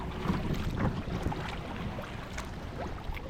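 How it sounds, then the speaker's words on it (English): A kayak paddled into the wind on the open sea off the Munxar cliffs in Malta: steady wind noise with soft water splashes and paddle strokes, continuous and fairly close, no talk. "Now we are paddling against the wind"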